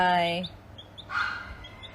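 A chicken chick held in the hand gives a loud chirp at the start, then fainter peeps, with a voice briefly mixed in.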